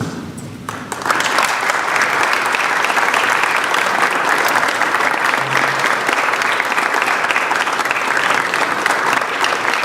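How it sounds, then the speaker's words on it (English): Standing audience applause for service award recipients at a university celebration, loud and dense, sustained steadily for about nine seconds after a brief quieter start. "I would like to invite the rest of you to stand and provide a warm round of applause for all of our recipients"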